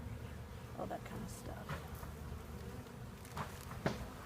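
Honey bees buzz around an open beehive on a farm, a steady low hum with scattered nearby insect passes and some faint voices in the background.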